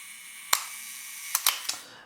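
A mechanical Nikon F film camera fires on its self-timer. A long, faint buzzing whir runs up to a sharp shutter click, then a quick cluster of three more crisp clicks follows, all close and with no talk.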